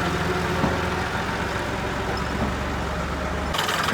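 A tractor engine starts up and runs steadily, hauling a trolley loaded with bricks; a continuous low rumble fills the clip from start to finish, with a brief burst of broadband noise near the end.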